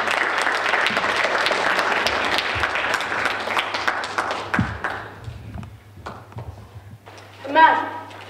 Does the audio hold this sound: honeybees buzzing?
no